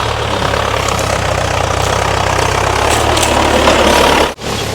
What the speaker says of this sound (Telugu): ట్రాక్టర్ ఇంకా దున్నుతా ఉన్నది